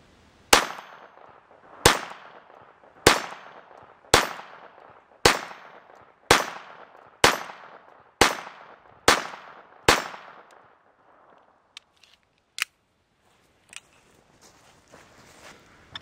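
Ten evenly spaced pistol or rifle shots ring off a heavy-duty 550 armor steel target, each a sharp crack with a short metallic decay, followed by a few fainter isolated knocks.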